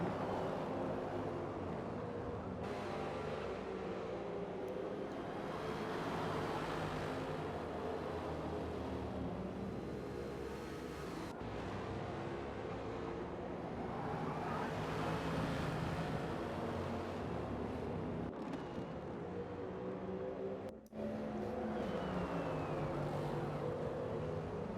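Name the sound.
racing car engines in sim racing video game at Catalunya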